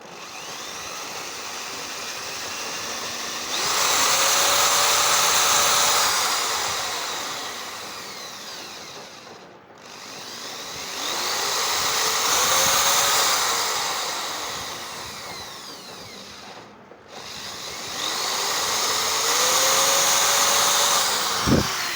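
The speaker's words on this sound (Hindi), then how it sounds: "ड्रिल की सहायता से जो अपना पतला वाला बीट रहता है उसकी मदद से हल्का सा होल लगा लेंगे।" Electric drill with a thin bit boring light pilot holes in wood to stop it splitting when installing L-hinges; three sustained whirring runs, each several seconds long, close and steady, separated by short pauses.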